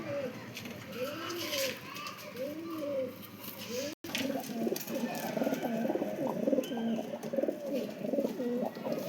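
Pigeons, including a green Madras pigeon, coo in repeated rolling phrases at a pigeon loft, fairly faint and steady, with a brief dropout midway and a low background hum.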